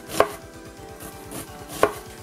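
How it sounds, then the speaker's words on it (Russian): Two sharp knife chops through an onion on a cutting board, spaced well apart, close and clear over a faint steady background hum. "Нарезаем луковицу мелкими кубиками."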